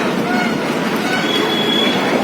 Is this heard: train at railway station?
yes